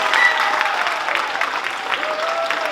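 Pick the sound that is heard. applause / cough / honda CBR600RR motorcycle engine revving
applause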